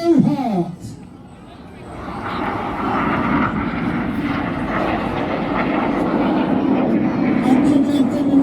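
Red Arrows jets roar overhead at an Armed Forces Day air display in Ryde, Isle of Wight, a loud sustained engine rumble building after a brief lull, with a commentator's voice and crowd murmur audible over it.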